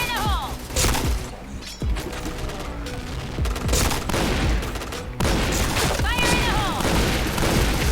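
Rapid bursts of gunfire and sharp shots in the shooter game Point Blank, including shotgun fire, with booming impacts, explosions and whizzing effects, dense and loud throughout.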